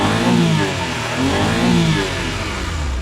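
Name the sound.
mini van engine running and revving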